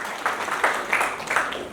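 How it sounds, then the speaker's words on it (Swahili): Meeting audience claps in a few scattered bursts, moderately loud and close, brief and uneven rather than sustained. "tupigie makofi, tutolee makofi kwa hiyo swali"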